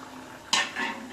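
Small chuno fish boiling in a pot on a gas stove, a steady bubbling hiss with a brief louder burst of bubbling and clatter midway, close by.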